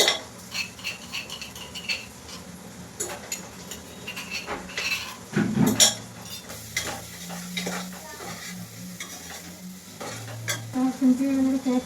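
Tomato and ginger-garlic paste frying in a pan for chicken biryani, a soft sizzle under repeated scraping and stirring with a metal utensil that clinks against the pan.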